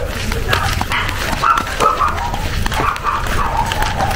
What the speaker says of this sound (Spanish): Ah, ahí los perritos.